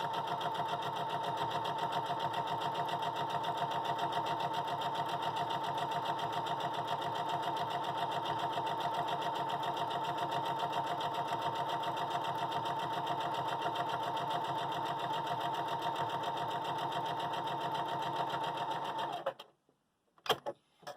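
A sewing machine stitching quilt pieces with a quarter-inch seam allowance and neutral thread runs in a steady, even whir for nearly twenty seconds, close and unbroken, then stops with a few small clicks and handling noises.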